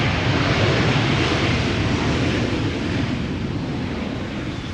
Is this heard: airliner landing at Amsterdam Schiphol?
yes